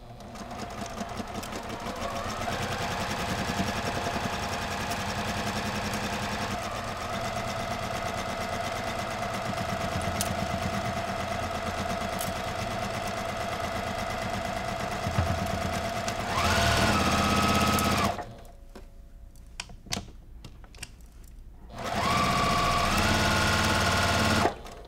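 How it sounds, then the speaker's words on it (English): Sewing machine stitching straight down a pumpkin quilt block seam intersection, a steady close mechanical hum running for long stretches with a brief pause near the end before starting again. "we're just going to sew straight down this intersection"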